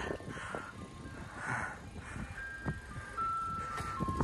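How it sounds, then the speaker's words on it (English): An ice cream truck arriving plays its thin chiming tune at a distance, faint over steady outdoor noise and traffic-like rumble, with no talk. "For the very first time in a couple of years, the ice cream truck is here."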